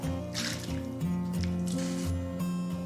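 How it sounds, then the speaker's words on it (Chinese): Jiangxi rice noodles, boiled over medium heat for ten minutes, are ladled from the pot into cold water, giving a steady wet slosh and squish with drips, over a constant low background hum. "关火，然后直接盛到凉水中"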